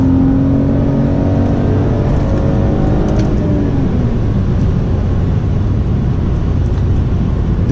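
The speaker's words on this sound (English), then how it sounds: "let me go ahead and show you guys a pull in sport mode" A 2004 BMW E46 330i ZHP accelerates hard in sport mode from about 50 mph, its engine note loud and close as the revs climb steadily through a sustained pull with no talking.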